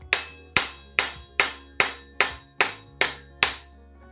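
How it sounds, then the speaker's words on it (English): Eight sharp metallic hammer blows strike the top of a nut on an old 1970s bike, evenly spaced and ringing briefly after each hit, loud and close. "and then you can hammer on top of it"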